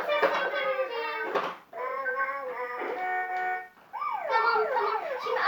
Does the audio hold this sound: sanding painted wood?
no